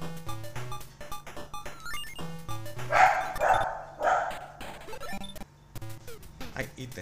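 Two pet dogs barking in a home, a burst of several sharp yips and barks in the middle, over a video game's chiptune music and a person talking.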